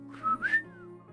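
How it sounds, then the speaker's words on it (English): In the video game Trails of Cold Steel II, a character blows a whistle: two short rising tones, then a longer gliding note fading over soft background music. "It's this not so secret whistle."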